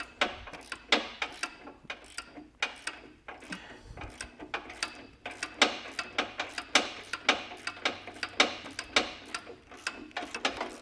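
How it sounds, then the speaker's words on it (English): A ratchet with an 18 mm deep well socket and short extension works bolts loose on a 2024 Jeep Wrangler Unlimited during base plate installation, giving steady rapid clicking strokes in a close, continuous rhythm. "I'm just going to use an 18 deep well socket and a very small extension"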